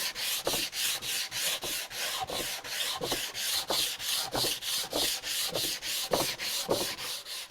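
Sandpaper rubs back and forth over wood by hand, making a regular rhythm of about two scratchy strokes per second. The strokes are close and fairly loud, with no voices.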